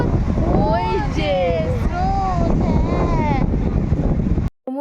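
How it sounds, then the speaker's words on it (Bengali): Strong wind buffets the microphone on the beach at Puri, a loud, continuous rumble with someone talking over it. "সমুদ্রের পাড়ে এত হাওয়া, মানে কথার থেকে বেশি আর কি হাওয়ার আওয়াজ আসে।"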